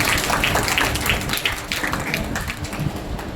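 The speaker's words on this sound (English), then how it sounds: "Please give a big round of applause." An audience at a college celebration applauds a guest of honour, a dense wash of clapping that stays fairly loud throughout and eases off slightly near the end.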